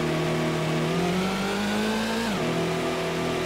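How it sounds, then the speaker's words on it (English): Racing car engine in the PlayStation game Gran Turismo during an Anglo-American Sports Car Championship race, a loud sustained whine that climbs steadily in pitch, dips sharply at a gear change, then holds steady. "Car goes wee."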